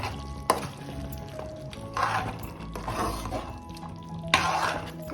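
A country chicken curry with garam masala is stirred in a pan, giving several distinct scraping strokes over a soft, steady sizzle. No one speaks.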